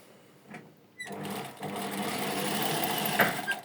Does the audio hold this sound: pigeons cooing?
no